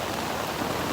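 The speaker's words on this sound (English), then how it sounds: "it's kind of nice to be in a tent when it rains" Heavy rain pelts a tent in a storm, a dense, steady hiss of drops close overhead with no breaks.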